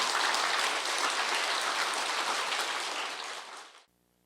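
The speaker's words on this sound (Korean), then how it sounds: "그런 의미에서 여러분도 박수 한번 쳐주십시오." An audience at a lecture event claps in thanks, producing dense, steady applause that holds strong and then stops abruptly a little before the end.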